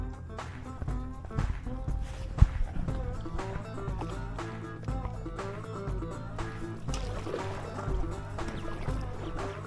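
A canoe paddles slowly back to camp on calm water with no wind, soft rhythmic paddle splashes and dripping close by, steady low water movement throughout, no talking.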